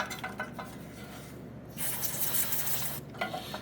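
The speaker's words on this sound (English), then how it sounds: "we're just going to spray both ends really, really well with that CRC cleaner" A can of CRC aerosol cleaner hisses in loud, close bursts onto an oxygen sensor connector of a 2024 Polaris RZR 1000 XP, with brief pauses between sprays and a steady low hum underneath.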